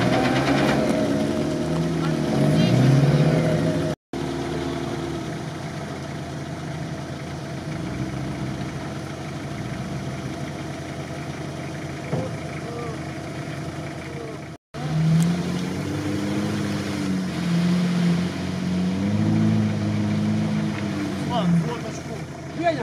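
Toyota Land Cruiser 70 off-road vehicle on 33-inch tires working through a swamp, its engine droning and revving unevenly near the microphone throughout, with people talking over it.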